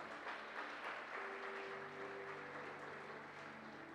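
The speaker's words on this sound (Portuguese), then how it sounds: "Queria que vocês aplaudissem ao Senhor pela vida do nosso irmão." A church congregation applauds steadily throughout a communion celebration service, a dense, continuous clatter of many hands with a faint sustained musical tone underneath and no voices.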